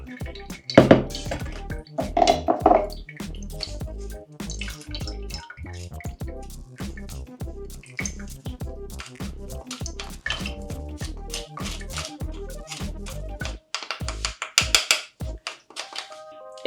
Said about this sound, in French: Nous allons filtrer ce sirop à travers la petite passoire.